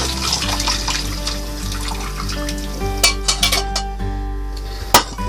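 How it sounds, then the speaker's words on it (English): Cooked vegetables for a creamy garlic chicken dish are drained in a kitchen sink. Water rushes and splashes up close under a steady hum, and a few sharp clinks of a pot or utensils come near the end. "Drain your vegetables."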